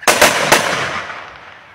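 A rifle fired on command, a loud sharp report close by followed by a quick echo and a second crack, fading out slowly.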